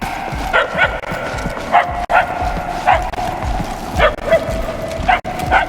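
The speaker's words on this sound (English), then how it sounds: "I can hardly hear the dog." A dog in Marvel's Guardians of the Galaxy game barks in short repeated yips, fairly loud and spaced about a second apart, over a low rumbling background.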